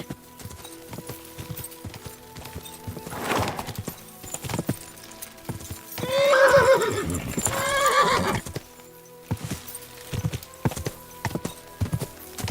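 Hooves clip-clop in a steady galloping rhythm in a video game, broken midway by a loud horse whinny, then the hoofbeats carry on.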